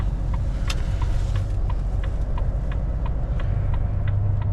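A truck drives and pulls in to park, its engine a low steady rumble with faint, evenly spaced ticking clicks above it and no talk.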